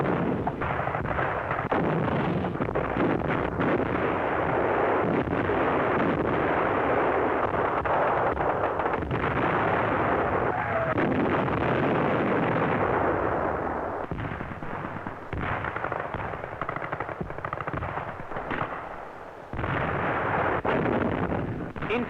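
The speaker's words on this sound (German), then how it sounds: "Infanteriegeschütze und Artillerie bereiten einen Angriff unserer Infanteristen und Panzerkampfwagen vor" Infantry guns and artillery firing in a 1942 wartime newsreel, a dense, continuous roar of booms and blasts, loud and unbroken, with no speech.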